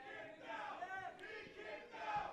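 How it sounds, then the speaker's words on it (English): A wrestling crowd cheers and chants at a live show, a distant, sustained roar of voices with rising, wavering shouts, faint and continuous. "the crowd certainly firmly behind Facade as he attempts to will himself on"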